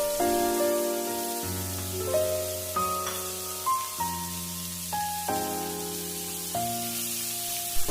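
Finely chopped onions hit a hot pan with ginger and garlic over high flame, giving a steady, close sizzling hiss that runs under background music throughout.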